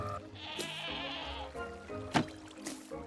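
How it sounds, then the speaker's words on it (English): A screaming goat in the Minecraft video game gives a long, loud bleat, then shorter bleats that follow in a steady game-audio setting with no talk. "Billy, you are the screaming goat"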